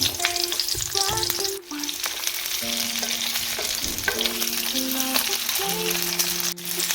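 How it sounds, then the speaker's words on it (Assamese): Loud, continuous sizzling of onions frying in hot oil, with stirring scrapes and a steady tonal hum over the bubbling crackle. "ঠিক তেলখিনি গৰম হোৱাৰ লগে লগে মই ইয়াতে প্ৰথমতে পিঁয়াজখিনি দি লওঁ"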